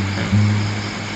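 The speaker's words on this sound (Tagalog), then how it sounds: "yung tunog ng daloy ng ilog" A river flows steadily past a riverside camping spot, a constant broadband wash of running water with a low hum beneath it, unbroken throughout.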